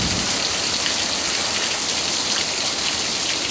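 Heavy pouring rain hisses steadily and densely, loud and close, with no talking and no break in the downpour.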